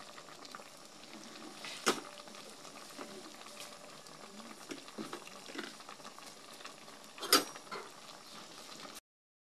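Papaya and malunggay leaves go into a pot of bulanglang with shrimp, a soft simmering bubble with light clattering splashes and a couple of sharp clinks as ingredients drop in.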